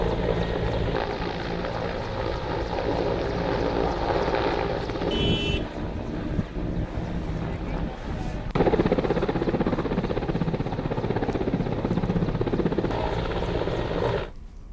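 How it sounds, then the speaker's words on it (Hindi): A helicopter making a trial flight in a Naxal-affected area of Bastar, for ferrying polling staff during the Lok Sabha election, drones and chops steadily and loudly throughout with no talk. "हेलीकॉप्टर से यहां पर मतदान कर्मी भेजे जा सकते हैं और इसी की वजह से ये ट्रायल हुआ है।"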